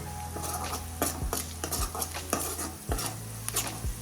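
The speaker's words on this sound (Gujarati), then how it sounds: "ડુંગળી અને લસણને સારી રીતે તેલમાં સાંતળી લઈએ।" Chopped onion and garlic sautéing in oil, a background sizzle broken by repeated clinks and scrapes of a metal spoon against the pan, close and clear with no voices.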